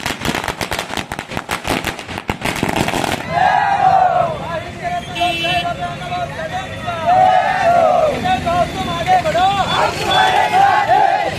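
A quick string of firecrackers bursts at a street celebration of an election victory in Deglur, loud and crackling for a few seconds before a cheering, shouting crowd takes over.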